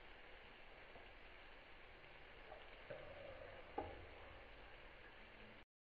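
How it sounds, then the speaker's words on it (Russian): Zucchini pancakes fry in a pan with a constant soft sizzle and crackle and a couple of small ticks, quiet and close, with no talking. "Еще вовсю блинчики жарятся."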